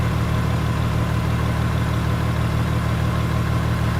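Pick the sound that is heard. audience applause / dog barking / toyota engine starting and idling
toyota engine starting and idling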